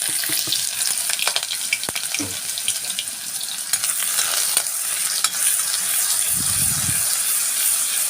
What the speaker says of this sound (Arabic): انا مش هحمر البصله، انا هديها تلويحه بس كده خفيفه